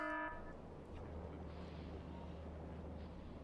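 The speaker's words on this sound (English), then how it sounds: "So whenever this tank empties out or fills up completely, we get an alarm." An alarm goes off in a factory-building video game when a storage tank empties out or fills up completely, giving a brief tonal blare at the start followed by a steady low machinery hum.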